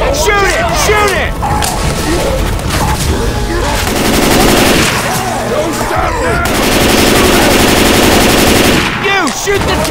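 Rapid automatic gunfire from survivors shooting at the Tank in the zombie game Left 4 Dead 2, loud sustained bursts with sharp single shots, mixed with game effects and shouting voices.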